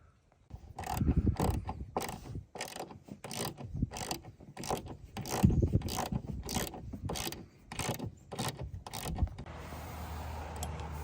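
A ratchet tightens a bolt on a Jeep JKU hood mount through a rubber grommet, giving close, rapid clicking strokes in bursts over about nine seconds before fading into a quieter hum.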